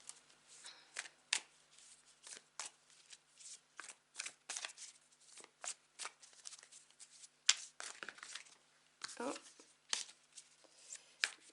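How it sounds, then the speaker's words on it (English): A deck of Intuitive Night Goddess Tarot cards is shuffled by hand in a series of quick, crisp riffling bursts, close and fairly quiet, with short pauses between the shuffles. "I'm going to start shuffling."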